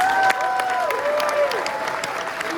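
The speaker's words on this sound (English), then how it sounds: "One more round of applause for these guys." A keynote audience claps in a large hall, steady moderate applause with a few sharper claps standing out, while a tonal whistle-like sound drifts over it early on.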